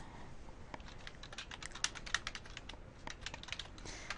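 Quick, irregular clicking of keys on a computer keyboard, quiet and close, with a steady patter and no voices.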